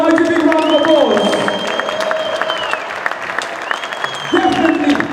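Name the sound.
audience applause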